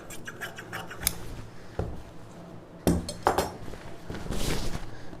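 Scissors cut fabric for a puff-sleeve dress in a handful of separate, close snips and clinks, spaced irregularly with quiet gaps between them and no talking.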